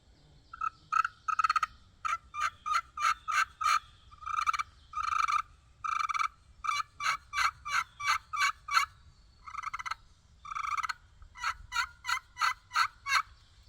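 Repeated bursts of turkey yelps and clucks scratched out on a slate call with a corncob striker, coming in quick rhythmic runs with short pauses, clear and close.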